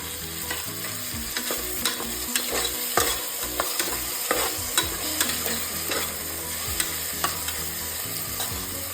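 Onion and tomato frying in a pan for South Indian tomato rice, a steady close sizzle broken by repeated sharp clicks and scrapes of a spoon stirring against the metal, with no talk.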